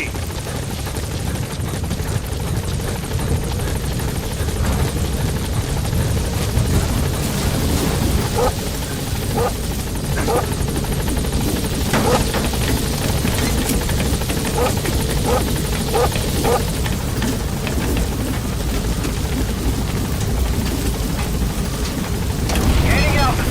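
Helicopter rotor drone from the extraction chopper arriving at Mother Base in Metal Gear Solid V, a steady, loud, continuous whir with repeated faint blade thumps, and a voice talks over it.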